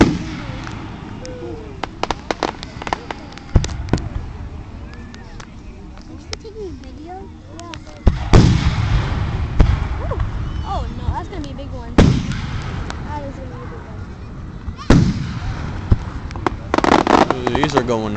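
Fourth of July fireworks burst overhead in a string of sharp booms and crackles, some loud and close, with spectators talking and reacting between the blasts.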